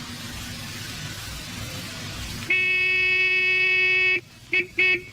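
A car horn honks loudly and close, one long sustained blast followed by two short toots, over a background of steady noise.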